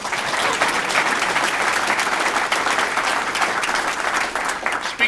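Steady, dense applause from an audience at an assemblyman's swearing-in event, loud and continuous throughout with no pauses or talk over it.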